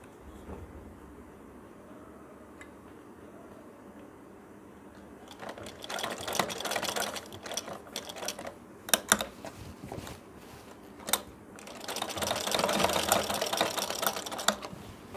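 Sewing machine stitching a small cloth loop piece for a newborn napkin hanger, two sustained whirring runs of rapid needle chatter separated by brief pauses and clicks, close and fairly loud, with no talking.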